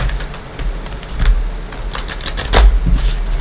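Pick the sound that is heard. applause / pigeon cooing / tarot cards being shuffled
tarot cards being shuffled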